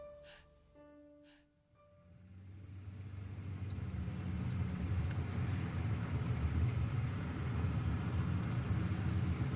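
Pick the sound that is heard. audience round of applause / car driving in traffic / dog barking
car driving in traffic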